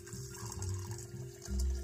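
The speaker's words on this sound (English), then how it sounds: "Now I'm gonna fill up my jar with some water here." Tap water pours steadily into a glass mason jar for sprouting seeds, a low gurgling fill that swells louder near the end, with no talking.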